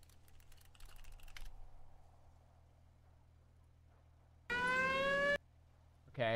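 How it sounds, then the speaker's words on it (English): A classic police siren in a GTA roleplay game wails loudly in a short burst of rising and falling tones, preceded by faint keyboard tapping and quiet background hum, then cuts off and briefly returns. "Classic siren sound."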